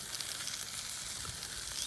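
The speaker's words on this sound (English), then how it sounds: "just sizzling away." Pork crackling lies face down on a Twisted Chef BBQ mat atop a Cadac Safari Chef 2 gas grill, sizzling in a steady, close, even crackle with no voices.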